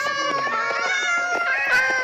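A cat meows loudly and repeatedly at close range inside a home living room, its drawn-out cries overlapping with little pause, alone without talk.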